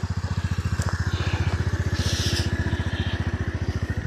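A motorcycle riding off-road on rough mountain terrain near Manang throbs with a steady, rapid, close engine pulse that rises slightly in the middle, with no talk over it.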